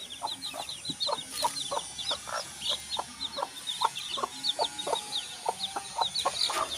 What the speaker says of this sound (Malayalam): ഇന്ന് നമ്മളടുത്തൊരു ഒരു ബാച്ച് കോഴിക്കുട്ടികൾ വിരിഞ്ഞിറങ്ങിയിട്ടുണ്ട്